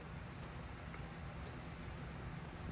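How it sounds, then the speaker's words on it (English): Steady rain falls in typical Florida weather, a faint, even hiss that stays constant with no voices over it. "Is it raining, Bubba?"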